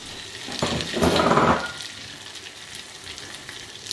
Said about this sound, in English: I've heat up the oil, so I'm going to put this in and it will sizzle.